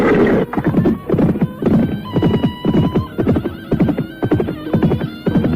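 Horses galloping toward a forest on a hillside, loud rhythmic hoofbeats with repeated whinnies and neighs close by.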